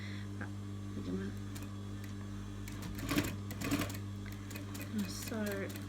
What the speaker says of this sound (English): So when we're sewing, we're going to sort of try and curve it a little bit.